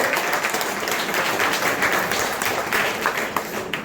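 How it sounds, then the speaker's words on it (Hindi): Steady, dense applause from an audience at a Northern Railway retirement ceremony in New Delhi, continuous and fairly loud throughout with no speech over it. "जोरदार तालियां बजती रहे"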